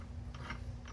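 Mechanical clicking and ratcheting from a Suzuki LT500 ATV transmission being shifted into second gear during repair, a brief close clunk with gear mechanism rattle.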